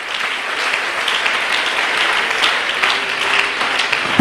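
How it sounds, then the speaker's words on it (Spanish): A church congregation applauds during an evening worship service, a dense, steady wash of many hands clapping that carries on loudly throughout, with no voices standing out. "Dale un aplauso a la gloria de Él en esta noche."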